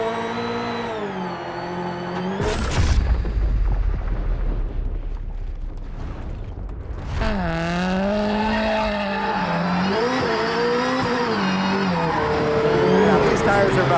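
Travis Pastrana's 862bhp Subaru Huckster driven hard, engine revving and wailing through shifting pitch, with a sharp loud burst and rumble partway through, then sustained strained engine tone continuing to the end.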